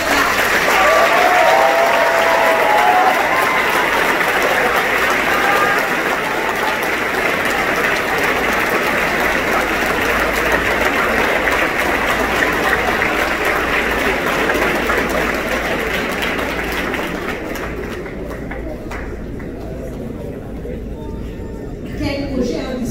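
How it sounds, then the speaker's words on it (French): Sustained, loud applause from a large audience at a startup showcase event, steady dense clapping that thins and fades slightly toward the end. "Merci de les applaudissements."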